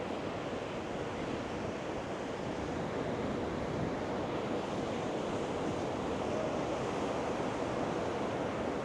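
Ocean waves wash onto the beach at Matinhos, Pontal do Paraná, Brazil, a steady loud roar of surf blended with wind noise on the microphone, continuous and with no voices.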